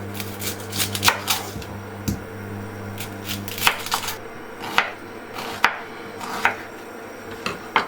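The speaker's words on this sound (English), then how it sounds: "Peel and finely slice the onion." A sharpened knife finely slices a peeled onion on a board for squash soup, a series of crisp, irregular chops close by, some louder than others, over a faint low hum.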